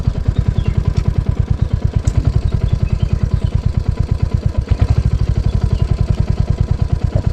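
A motorcycle putters steadily nearby in a forest, its rapid, even chugging rhythm holding constant throughout without any voices.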